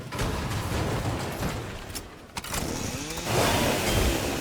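Chainsaw used to move around in a video game: a steady, buzzing engine whine runs throughout, dipping briefly midway before surging louder, with no talking.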